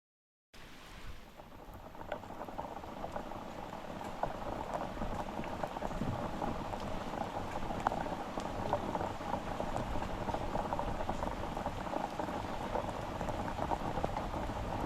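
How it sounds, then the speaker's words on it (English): Heavy rain pours onto Smith Mountain Lake around a fishing boat, a dense, continuous hiss of drops that starts suddenly and holds steady throughout. "Put my phone away, cause it's pouring."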